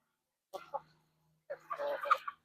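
Chickens clucking in two short bursts, close but fairly soft, separated by a brief pause with nothing else heard.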